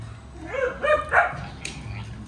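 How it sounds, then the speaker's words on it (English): A dog barks several times in quick succession, fairly close, with yelping, whiny tones mixed in, while a Kawasaki Vulcan 1500 motorcycle idles faintly in the background. "Dogs freak out whenever I turn the bikes on."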